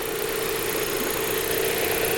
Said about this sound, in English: 1800cc turbo engine, this is the CA18.